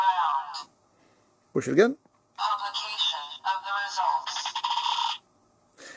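Kamen Rider Geats DX Spider Phone toy pressed on its Desire Grand Prix button, setting off a bright electronic sound and jingle from its small speaker that plays twice, each burst lasting more than a second, with a short spoken remark between them.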